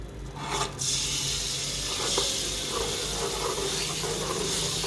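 Ginger garlic paste, two tablespoons, frying in a pan as part of a beef bone curry, giving a steady close sizzle and hiss with faint scraping throughout and no voices.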